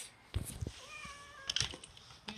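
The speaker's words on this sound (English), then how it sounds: "Stinking cats!" A cat meows several times nearby, short plaintive calls with a drawn-out tonal meow in the middle, separated by brief rustling thumps in a quiet room.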